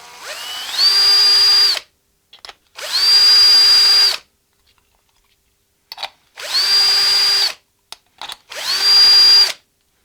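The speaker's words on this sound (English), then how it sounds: "I just take the drill and I just round over the little" A power drill whines in four steady bursts of about two seconds each, rounding over hole edges in a pedal enclosure, separated by short pauses with faint clicks, close and loud.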